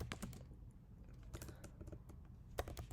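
Rapid, uneven clatter of keys as code is typed on a computer keyboard, close and steady for the whole stretch with no voices.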